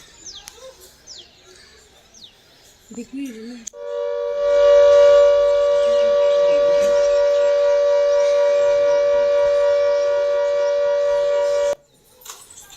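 A loud, steady civil defense warning siren in Poonch, Jammu and Kashmir, sounded after Pakistani shelling, holds one sustained tone for about eight seconds, then cuts off abruptly; faint bird chirps come before it.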